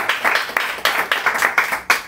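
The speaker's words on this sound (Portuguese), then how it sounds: "Pode aplaudir a Jesus." A church congregation at an Apostolic service claps steadily in a quick, even rhythm, the claps overlapping into a warm, busy patter that holds at moderate loudness throughout.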